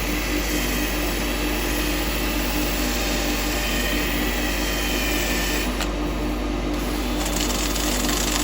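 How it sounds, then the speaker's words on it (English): A power drill with 180-grit abrasive sanding a turned wooden weave-basket pot on a lathe gives a steady, loud motorised whine and rasp that runs continuously throughout, with no talking. "I want to sand this now. I'm just going to use the drill for speed."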